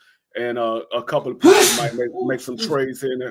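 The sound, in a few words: sneeze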